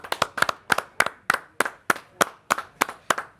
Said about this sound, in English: this is a lot of clapping